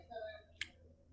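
A single sharp computer mouse click sounds while saving changes in disk recovery software. A soft voice is heard just before it.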